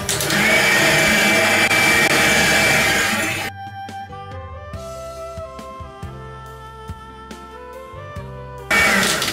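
An electric mixer whirring at maximum speed while beating sugared batter for a cheese, yogurt and raisin cake, a loud steady motor drone at the start and end with a quieter middle.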